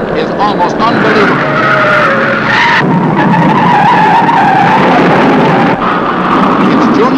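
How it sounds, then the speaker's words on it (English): A 1950s NASCAR stock car skids and turns over in a crash, giving a loud, sustained scraping skid over roaring engines, with a broadcast voice over the din. "Look at there, another car is turning over."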